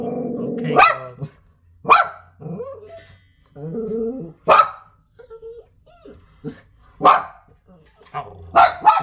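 Several sharp barks from a garden dog, spaced through the scene, with low growling between them as someone talks alongside.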